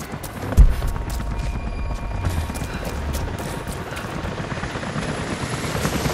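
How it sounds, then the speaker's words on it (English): Helicopters approaching in the Rise of the Tomb Raider video game, a steady low rotor thrum and engine drone holding throughout after a brief thump near the start, loud and continuous. "Jacob, helicopters are headed your way."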